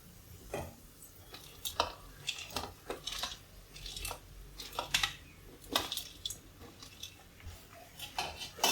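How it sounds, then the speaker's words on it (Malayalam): Chopped bitter gourd tipped into a pan of onions, giving scattered soft clatters, scrapes and squishy stirring knocks at close range, with no talk over them. "ഇനി നമുക്ക് അരിഞ്ഞു വെച്ചിരിക്കുന്ന പാവയ്ക്ക അതിലേക്ക് ചേർത്ത് കൊടുക്കാം"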